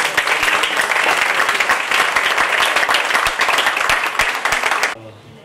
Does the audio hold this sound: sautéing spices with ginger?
no